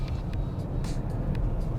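A 2021 Polestar 2 Long Range Dual Motor electric car with 78 kWh battery accelerates hard, giving a steady low road and motor rumble inside the cabin with faint higher whine and brief bumps.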